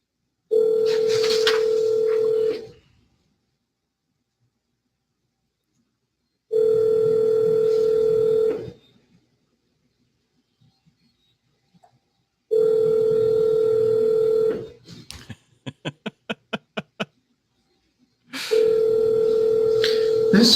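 Telephone sounds in a courtroom: a steady dial tone repeats in several long stretches separated by silence, with a quick run of dialed tones before the last one.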